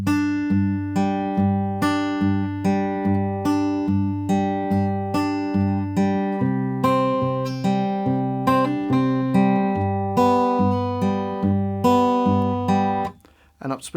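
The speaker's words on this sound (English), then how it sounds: "okay, so the whole line slowly is going to sound like this" A guitar slowly fingerpicks the line of a song with clear, evenly plucked notes and ringing bass strings in a steady rhythm. The playing is solo and close, ending with a short fade.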